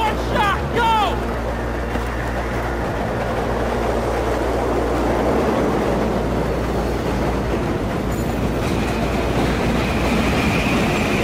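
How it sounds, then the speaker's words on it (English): A train rolls past in the Battlefield 3 video game, a loud, sustained rumble with a rhythmic clatter of wheels over the tracks that lasts throughout, and a metallic squeal near the start. "The train's coming!"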